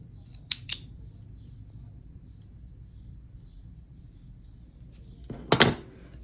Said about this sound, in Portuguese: Posso até cortar essa pontinha aqui.